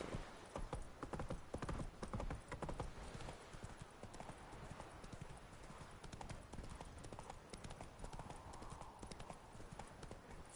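Hooves of Roach, the horse in The Witcher 3: Wild Hunt, pound in a fast, continuous galloping rhythm for several seconds, with a faint neigh at moments, steady and moderately close, no voices.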